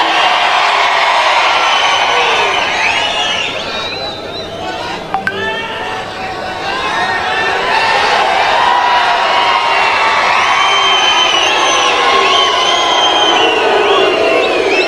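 A large crowd at a public speech in Solapur shouts, whoops and cheers loudly and continuously, with a brief dip in the middle before the roar swells again, and voices call out through it.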